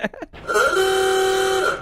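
A single awooga car horn sounds loud and close, a short rising squawk that slides into a sustained, wavering honk lasting just over a second, preceded by a brief burst of voice.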